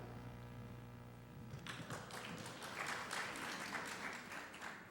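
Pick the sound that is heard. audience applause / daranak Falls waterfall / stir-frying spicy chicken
audience applause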